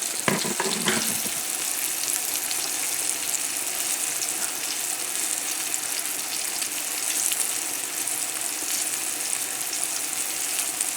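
Salmon sautéing in oil and butter in a pan, with a few brief clatters at the start followed by a dense, steady sizzle that holds evenly at close range and no speech.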